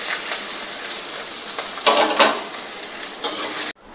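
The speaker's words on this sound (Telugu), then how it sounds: "ఫ్రై అయిన తర్వాత ఆనియన్ ముక్కలు కూడా యాడ్ చేసుకోవాలి." Onion pieces and dried red chillies frying in hot oil for a radish curry, a loud, steady close sizzle that swells as they are stirred, then cuts off abruptly.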